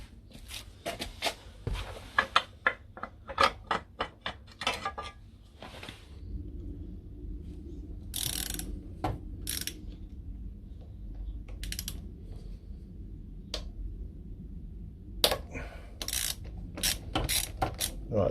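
Rapid bursts of ratchet clicks while bolts are loosened to remove the body cover of a Lexmoto Vixen 125 scooter, then quieter fiddling and a final flurry of close, sharp clicks.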